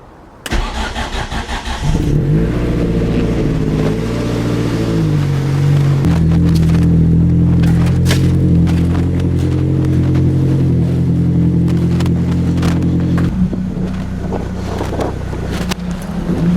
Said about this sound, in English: So I'm just going to start the car now and show you what it sounds like from a cold start.